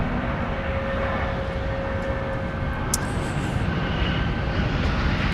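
A Delta airliner takes off from the runway at MSP airport, a steady, loud broadband jet roar that holds continuously at a distance.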